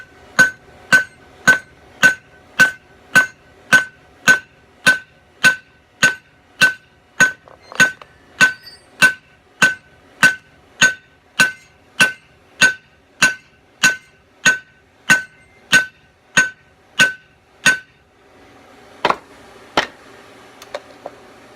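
A hammer strikes hot steel on an anvil while a kiridashi blade is forged flat. About two dozen evenly spaced, ringing blows land roughly every seven-tenths of a second, loud and close, then a few scattered taps follow after a short pause.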